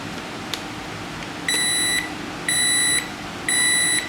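Sunbeam 887-05 alarm clock sounding its alarm: three evenly spaced, steady half-second electronic beeps, loud and close, over a faint background hiss with no talking.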